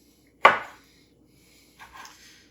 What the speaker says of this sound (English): we're just going to give those kind of a rough chop